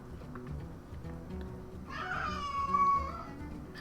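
A house cat gives a single drawn-out meow up close, standing out over a low, steady background of game music.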